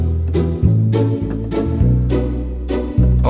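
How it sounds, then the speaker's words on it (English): A Yamaha Genos keyboard playing a deep, held bass line with short offbeat pizzicato string plucks from a multipad layered on top, loud and steady with no voice. "Together with the multipad it sounds like this."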